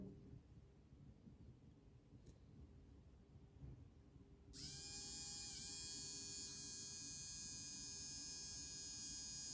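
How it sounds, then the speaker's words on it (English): A small 12 volt DC motor on a homemade power supply switches on partway through and spins with a steady, high electric whine, close up, after several seconds of quiet room noise. "This is 12 volts DC motor. Now I will try to turn this motor."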